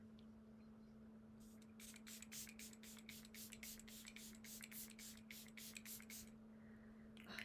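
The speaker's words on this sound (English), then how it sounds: "we're gonna do a setting spray just to cement this face in" Glow Recipe setting spray spritzed onto a face in a quick run of a dozen or more short, soft hissing pumps, close and quiet over a steady low hum, with no talking.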